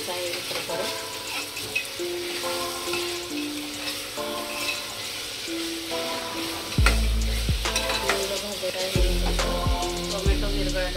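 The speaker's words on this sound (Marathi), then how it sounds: "आता कांदा टोमॅटो भाजलेला आहे।" Onion and tomato sizzling loudly in a pan for a dhaba-style chana masala, with steady frying crackle and, later, several heavy scraping stirs of a spoon against the pan, close and continuous.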